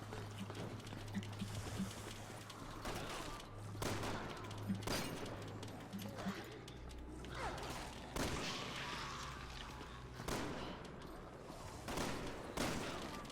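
Pistol shots in a Resident Evil video game, a series of sharp cracks fired at irregular intervals over busy, cluttered game background sound, moderately loud.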